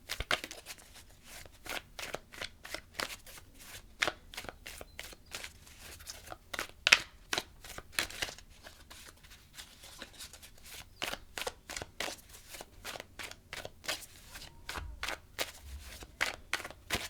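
Tarot cards being shuffled over and over, a long run of quick, crisp riffling flicks and soft slaps in a fast, fairly steady rhythm, close but quiet, with no talking.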